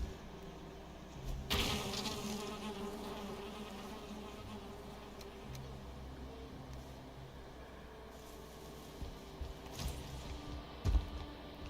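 Bees buzz faintly around a beehive in the Valheim game, a soft continuous drone under a few sharp thumps and clicks from play.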